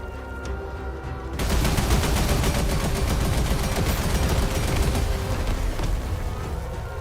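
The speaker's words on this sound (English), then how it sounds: "there goes the grenade launcher" A grenade launcher fires in the tank combat game Turning TankHead, setting off a loud, dense barrage of rapid repeated blasts that starts abruptly and continues as a steady rattling roar over an engine-like drone.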